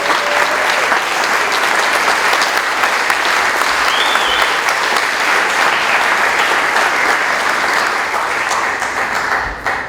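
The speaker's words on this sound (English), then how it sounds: "could you stand for a robust round of applause?" An opening-night film festival audience applauds a guest who stands, a dense, steady round of clapping that fills the room at full volume for the whole stretch and tapers slightly at the end.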